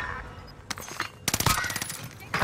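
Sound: gunfire in the Warzone video game

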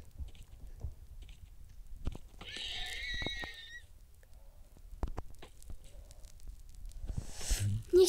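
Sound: horse neighing in a video game

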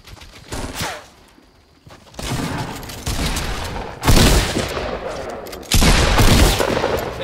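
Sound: gunshots in the video game Fortnite

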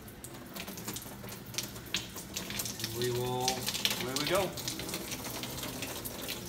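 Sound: water running from CleanCore fill station after switching on

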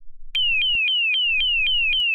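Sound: car alarm going off

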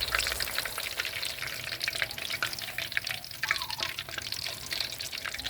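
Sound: battered enoki mushrooms deep frying in oil

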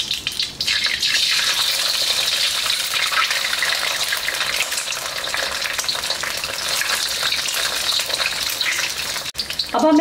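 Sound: two eggs frying in pan for chicken fried rice

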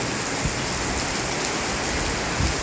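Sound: heavy rain

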